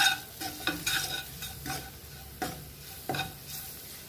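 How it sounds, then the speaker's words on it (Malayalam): Chili powder being sautéed in a pan for Kerala egg curry, stirred with a utensil in several brief scraping strokes over a low, steady sizzle, close up with no talking. "ഒരു 1/2 ടീസ്പൂൺ മുളക് പൊടി ഇതിട്ടൊന്ന് വഴറ്റി കൊടുക്കുക"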